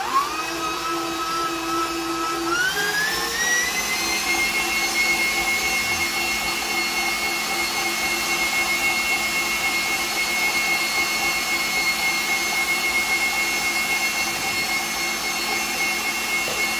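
A stand mixer whirs steadily while beating sticky cinnamon bun icing, a loud constant motor drone that rises in pitch as it speeds up early on, then holds an even whine to the end.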